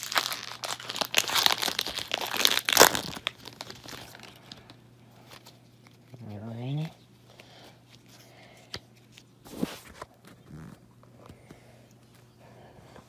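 Foil wrapper of a Pokémon Scarlet and Violet Paradox Rift card pack crinkles and tears close up in bursts, with scattered rustling and a short voiced sound between, then quieter handling of the cards.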